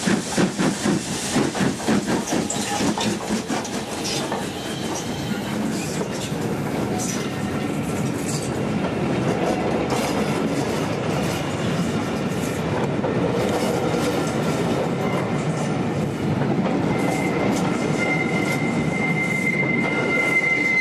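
An LNER steam locomotive hauling a service from Whitby near Grosmont Station, a loud continuous rumble of wheels and carriages with rhythmic clatter and a sustained squealing tone toward the end.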